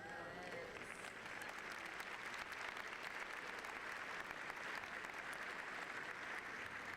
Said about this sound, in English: if you please hold your applause until all have been recognized